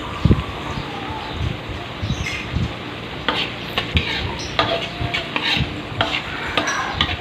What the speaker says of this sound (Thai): พัดปลาหมึกใส่กุ้งครับ ผัดกระเพาะปลาหมึกใส่กุ้